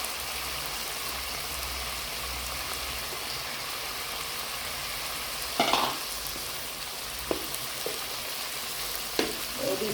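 Mutton liver sizzles in a pan of onion, tomato and garlic-ginger masala, a steady soft hiss of frying broken by a few scraping stirs, close and moderately quiet with no talking.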